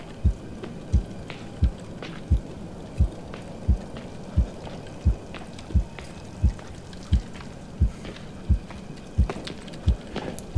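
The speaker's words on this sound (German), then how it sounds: "Wieso geht mein Herzschlag so hoch? Das ist mein Puls." A slow, steady heartbeat in Medusa's Labyrinth, a muffled thump roughly every two-thirds of a second over a quiet ambient hum, with faint rain-like background noise.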